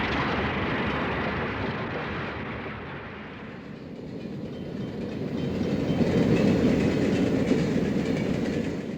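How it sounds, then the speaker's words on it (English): A Seaboard Coast Line mail train pulled by a single E-unit diesel locomotive rumbles by, a loud, steady roar with rhythmic clickety-clack from the wheels that dips briefly midway, then swells again as the cars pass close. "This is an SCL mail train pulled by a single E unit."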